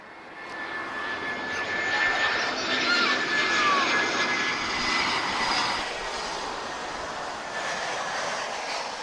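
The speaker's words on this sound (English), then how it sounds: "EasyJet A319 arriving from Marrakesh" An EasyJet Airbus A319 airliner arrives at Lisbon Airport after a flight from Marrakesh, its jet engines giving a broad, steady roar that swells and holds across the whole stretch with a thin whine running through it.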